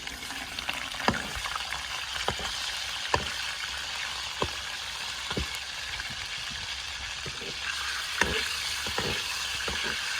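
About 300 grams of chicken fries with cardamom in a karahi, making a steady, dense sizzle with spatters and scraping stir clicks scattered throughout. It sounds close and plays without any talk.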